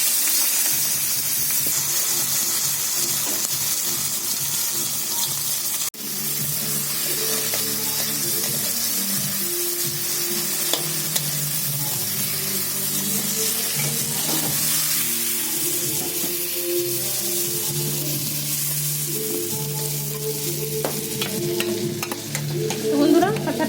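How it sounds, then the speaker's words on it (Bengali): Raw tomato pieces fry steadily in hot oil, a dense, continuous sizzle close by with spatula scrapes and stirring, alongside a faint trickle like running water, with no talking. "এই তেলের মধ্যে আমি কিছুটা কাঁচা টমেটো ভেজে নেব"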